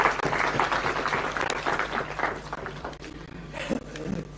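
A room of attendees at a Kenyan parliamentary induction retreat applauds, loud full clapping at first that gradually thins and fades toward the end, with a faint murmur underneath.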